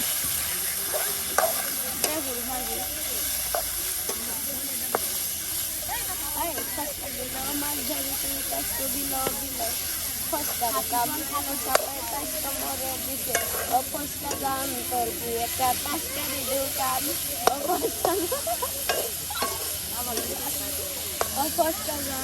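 Boiled bottle gourd greens frying with garlic in oil, a continuous hiss and crackle with frequent stirring scrapes throughout, people talking over it now and then.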